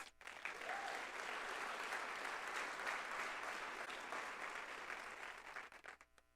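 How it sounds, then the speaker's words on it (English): Families, parents and staff at a college scholars induction ceremony give a sustained round of applause, a broad, even roar of clapping from a large crowd that fades near the end. "we're going to give you one more round of applause"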